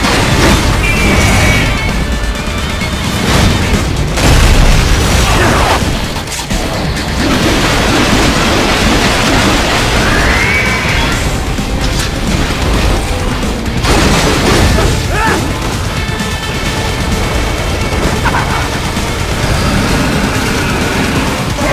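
Plasma cannon blasts from a boss fight in the action game Metal Gear Rising: Revengeance, loud booming bursts and crashing impacts repeating across a dense, continuous battle mix.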